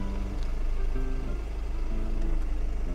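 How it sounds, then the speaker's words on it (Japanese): A Volkswagen diesel engine, from a T-Cross, T-Roc or Tiguan, runs steadily with a low, rumbling idle clatter, close and continuous, with no talk over it. "ディーゼルね、独特のからの音がしますけども"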